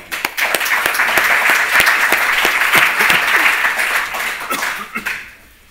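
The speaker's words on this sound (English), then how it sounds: "let's all give them an applause" An audience at a housing-risk conference claps for a panel, a loud burst of many hands with distinct sharp claps that holds steady, then tapers off and fades near the end.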